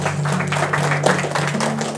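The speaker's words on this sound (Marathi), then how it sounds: "दादांसाठी एक वेळा जोरदार टाळ्या होत्या मित्रांनो." Audience applause breaks out for a quiz contestant at a Marathi quiz event held in a library in Gadgenagar, Amravati: a dense, steady patter of clapping that fills the whole moment, with a faint tonal hum underneath.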